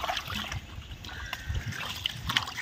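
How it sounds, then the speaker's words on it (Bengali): Water splashes and trickles steadily over feet to rinse off mud in a village, a close, continuous wash with small irregular spatters and no voices. "পায়ে কাদা ফাদা লেগে আছে, সব ধুয়ে দিলাম।"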